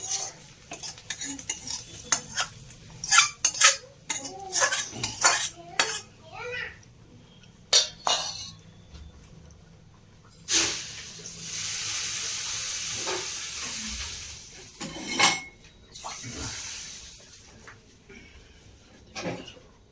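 Fried garlic, ginger and green chilli being mixed in a pan with utensils for a potato and egg pickle, with repeated metallic scrapes and clinks over a steady sizzle, while people talk in between.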